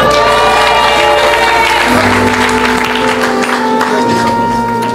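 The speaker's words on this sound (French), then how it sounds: "Quand vous vous asseyez, vous acclamez très fort." Church congregation at a revival service applauding and cheering loudly, dense sustained clapping and crowd noise, with sustained musical tones underneath.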